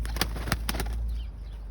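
Pigeons flapping their wings in a loft of fancy flying birds, several quick bursts of wingbeats in the first second, close and fairly loud over a steady low hum, then fading.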